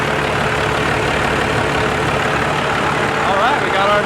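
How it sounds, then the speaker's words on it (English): An old Dodge engine with a newly fitted 215 injection pump runs steadily in a loud, continuous rumble, with a short rising whine near the end. "the engine runs great with that injection pump"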